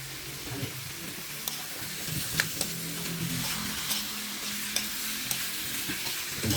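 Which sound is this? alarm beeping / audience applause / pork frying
pork frying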